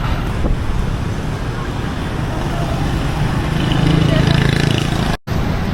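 Steady roar of traffic beside a busy highway in Ho Chi Minh City, a dense wash of passing cars and motorbikes with wind buffeting the microphone and a brief dropout near the end.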